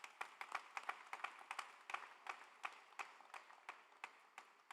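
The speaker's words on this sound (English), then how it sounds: "So please, let's give them also a round of applause." Scattered, light clapping from a commencement audience, individual claps audible in a loose uneven rhythm, fairly faint and distant in a large hall.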